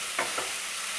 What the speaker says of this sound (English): you're just gonna break up the ground beef and then wait until it's fully cooked before you add anything else